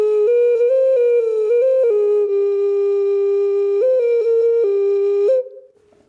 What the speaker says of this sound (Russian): Свистулечка.